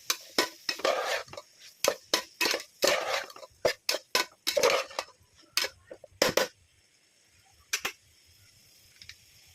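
Salt being mixed into biryani in a pot with a spoon: quick bursts of scraping and clinking in an uneven rhythm for several seconds, then a few sparse taps.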